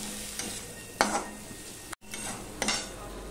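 Spice paste with turmeric, salt and chili powder being stirred in a pan for pabda fish curry, with a few scraping stir strokes over a soft steady sizzle, close and moderately quiet.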